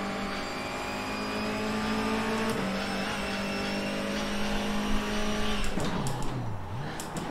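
A BTCC 2020 NGTC touring car in the rFactor 2 racing game: a steady engine drone runs throughout, then the pitch drops sharply under hard braking as the tires lock, with scrubbing noise near the end.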